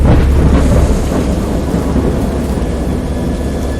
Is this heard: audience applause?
no